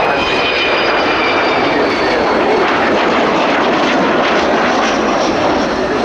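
An Avro Vulcan jet bomber flies at the Royal International Air Tattoo 2015, its engines a loud, steady, unbroken roar held close throughout, with no voices over it.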